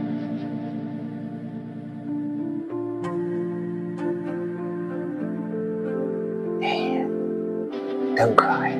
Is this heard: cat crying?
yes